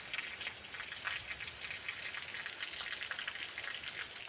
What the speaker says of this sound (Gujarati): હવે જો વરસાદ વધવામાં છે અત્યારે।